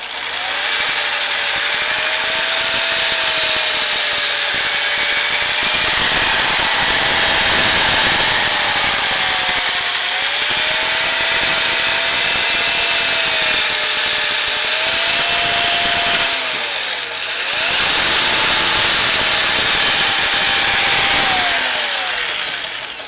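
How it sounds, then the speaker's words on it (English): A power sander running on a colored pencil piece, a loud close high-pitched whine and buzz that dips briefly in pitch and level under load a few times, with no talking. "I'm gonna go ahead and sand it just a little bit more with the power sander"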